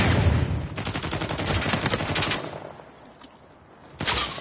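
Rapid automatic gunfire from the player's weapon in Uncharted 4, dense bursts of close, loud shots in sustained strings, a short lull, then another burst.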